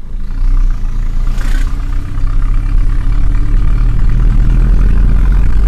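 Motorcycle with a full-system performance exhaust, engine loud and close with a deep, gruff rumble that stays steady and slightly builds, one short hiss near the start.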